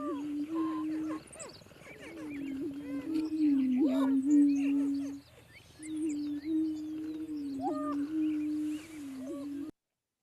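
Prairie chickens in a spring courtship display: low, droning cooing tones rise and hold in long booming phrases, with scattered higher cackles and whoops from several birds outdoors.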